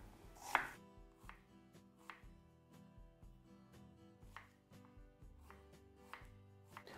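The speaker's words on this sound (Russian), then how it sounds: "Лук нарежу четверть кольцами, только не тонкими." Knife chopping an onion into thick quarter rings on a board, a steady series of crisp, close thumps at an irregular rhythm, with no talking.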